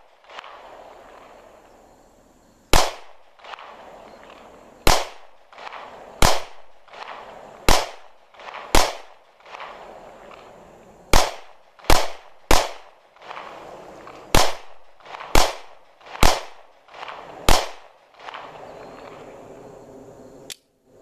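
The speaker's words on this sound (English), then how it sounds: "Bad guy camera view of Griff shooting." A Springfield XD9 subcompact 9mm pistol fired outdoors at a range, roughly fifteen sharp, loud shots spaced unevenly, some in quick pairs, with quiet gaps between them.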